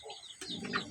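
Sirazi and Bangla pigeons on a farm give a brief soft coo with a faint chirp, quiet and close.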